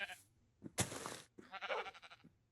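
Minecraft sheep bleat in two quick wavering calls, fairly close and clear, separated by short gaps, with a faint voice at the start.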